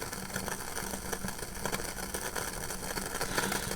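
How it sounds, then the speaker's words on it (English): A Mamod single-cylinder, single-expansion model steam engine fired by an alcohol burner runs steadily, a faint continuous whir with soft rhythmic chuffing and no voices. "this is a single expansion engine"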